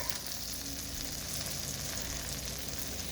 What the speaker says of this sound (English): the conduction going from the heat at the bottom is going to the pan, which is going to the butter, and it's turning into liquid butter